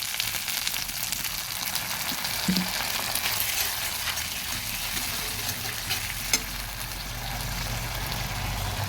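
A splash of water hitting fried ginger, garlic and chopped onion in a hot pan for a fish-head muri ghonto, bursting into a loud, continuous sizzle and hiss with occasional light stirring clicks, close and without speech.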